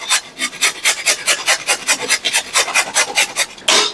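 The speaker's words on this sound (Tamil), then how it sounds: "இப்போ பாருங்க, இந்த பெரிய கண்ணு இருக்கிறதுல சீச்சுக்கோங்க." Sweet potato grated on the large holes of a grater, a loud, steady run of rhythmic rasping strokes, about three per second, close up and with no voice.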